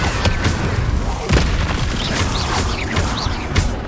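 Incendio fire spells are cast in the game Hogwarts Legacy, bursts of whooshing flame and booms with crackling impacts in quick succession, loud and close, with a little faint voice.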